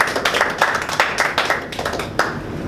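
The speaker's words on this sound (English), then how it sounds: "let's give a round of applause to SK." A round of applause at a Toastmasters speech evaluation meeting, a small audience clapping steadily in sharp, fairly close hand claps with no voices over it.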